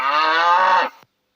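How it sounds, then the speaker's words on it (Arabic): A cow moos once, a loud, close, drawn-out low call that fades at the end, heard alone with nothing else around it. "بقرة."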